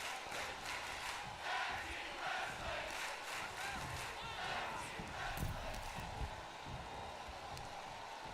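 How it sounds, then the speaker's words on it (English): A crowd roars and chants in a wrestling video game, keeping up a steady, dense cheer with a commentator talking over it. "you hear the crowd here getting into it, calling for tag team wrestling"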